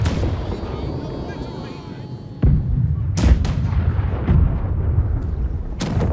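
Ship cannons firing in the naval combat game Blackwake, with several loud booming blasts at uneven intervals, some sharp and close, over a steady rumble of battle noise and ocean ambience.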